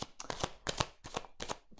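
Petit Lenormand cards being shuffled in a run of quick papery riffles and flicks, four or five bursts close by with brief gaps between them, no voices.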